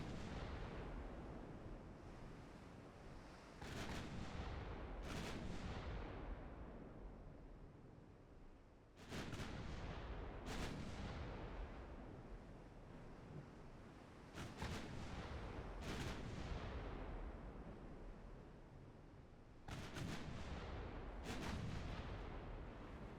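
Naval guns firing in Ultimate Admiral Dreadnoughts, a warship battle game: repeated heavy booming salvos in pairs every few seconds, each decaying into a long rumbling roar over a constant sea-like wash, no talking.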